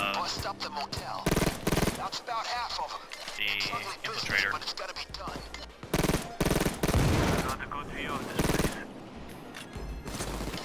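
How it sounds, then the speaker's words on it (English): Bursts of automatic gunfire from a Payday 2 heist, loud repeated volleys separated by brief pauses, with someone talking over much of the action. "Neighbors must have heard gunshots"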